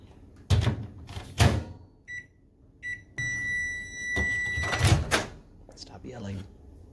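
A microwave oven melts Crisco in a kitchen, its door thudding shut, keypad beeping and a steady hum with a high tone running underneath, while a person talks nearby.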